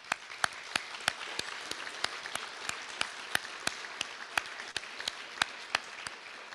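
An audience at a credit union's annual general meeting gives steady applause, a dense crowd of clapping with sharper individual claps standing out throughout, with no talking over it.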